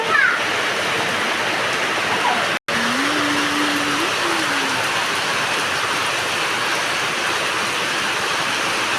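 Heavy rain pours down in a dense, loud, constant wash of noise that holds throughout, broken only by a brief dropout, while a faint tonal whine slides in and out underneath.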